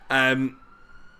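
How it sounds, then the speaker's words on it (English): An ambulance siren passing on a main road, a loud, sharp tonal wail lasting about half a second before cutting off, leaving a faint lingering tone and quiet room noise, with a brief spoken word. "I'm gonna wait for this ambulance to go by"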